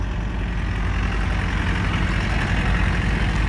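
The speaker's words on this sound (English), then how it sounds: "he's taking a tractor out." A tractor engine idles steadily at a vintage vehicle event at Cerney, a continuous low rumble running evenly throughout with no talk.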